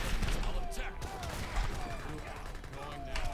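Machine gun units in Age of Empires III fire sustained rattling bursts amid the clatter of a battle, with a voice talking over the din.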